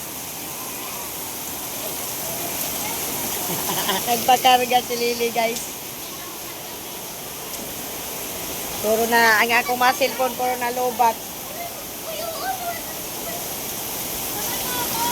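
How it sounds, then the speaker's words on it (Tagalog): Heavy rain pours in a steady, loud hiss that fills the whole stretch, with a person talking over it in two bursts. "Ang lakas ng ulan, guys."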